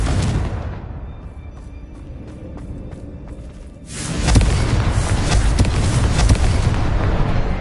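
A Confringo spell explosion in the video game Hogwarts Legacy: a steady rumbling game ambience, then a sudden loud boom midway that swells into a sustained, roaring blast with no voices.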